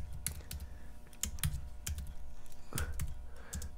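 Someone types a folder name on a computer keyboard, producing quick, close clicky keystrokes in uneven bursts with brief pauses between them.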